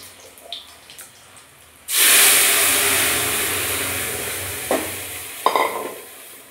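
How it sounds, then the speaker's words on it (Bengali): Arhar dal poured into a hot pan with asafoetida, a sudden loud burst of sizzling and hissing that slowly fades, followed by a couple of stirring knocks. "হিংটা দিয়ে দিচ্ছি। এবার আমি ডালটা ঢেলে দেবো।"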